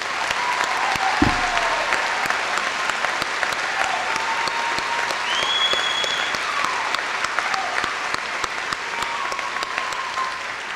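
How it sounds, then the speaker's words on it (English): A high school graduation ceremony audience gives sustained applause, many hands clapping steadily for several seconds in a large hall, with a few faint voices and whistles mixed in. "Let's give them one more round of applause."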